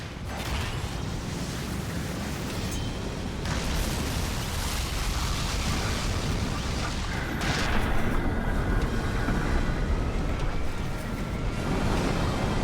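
Bomb blasts in the Kirby Air Riders video game go off in a dense, rumbling wash of booming game sound effects and roaring noise, continuous and loud with no speech over it.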